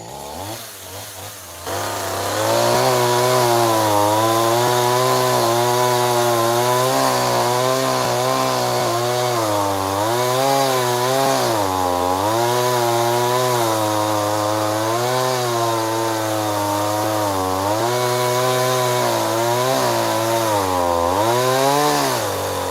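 A Stihl 171 chainsaw fitted with a 50 gauge bar carves wood into a bear, its engine droning loud and close almost nonstop, rising and dipping in pitch as the cut loads and eases.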